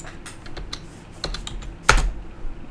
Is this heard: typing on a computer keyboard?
yes